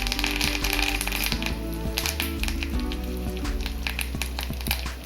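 Cumin seeds and curry leaves sizzle in hot ghee for lemon rasam, a loud, dense crackle with sharp spitting pops close to the pan, alone and steady throughout.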